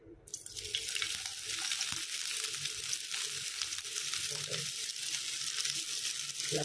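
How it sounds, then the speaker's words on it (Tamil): Hot oil fries ingredients for chicken dum biryani, a dense continuous hiss and sizzle that starts abruptly and holds loud and steady to the end. "காய விட்டு இதை போட்டு நல்லா பொரிச்சு எடுத்துக்கலாம்."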